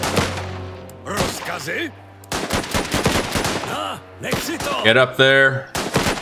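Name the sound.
gunfire in video game Last Train Home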